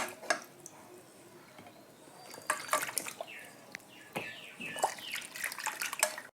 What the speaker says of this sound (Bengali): এবার বেগুনগুলোকে ধুয়ে নিতে হবে, ভালো করে ধুয়ে নেব।